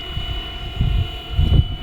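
Miniature scale Bell 206 RC helicopter in flight, a steady whirring rotor and motor hum with fixed tonal lines, swelling louder twice as it maneuvers close by.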